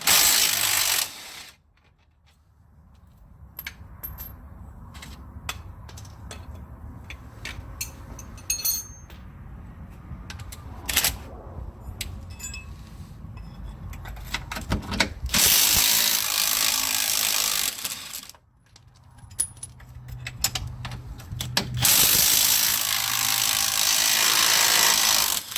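A Kobalt 3/8-inch cordless impact wrench working control arm bolts on a Dodge Grand Caravan, with loud bursts of rapid hammering separated by quieter clinks and handling of tools.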